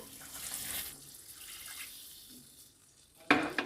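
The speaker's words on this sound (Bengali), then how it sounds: "দুই কাপ জল দিয়ে দেবো" Water runs and splashes into a cooking pan while pepper chicken is prepared with onions and soaked cashews, a steady close pour ending with a louder splash at the finish.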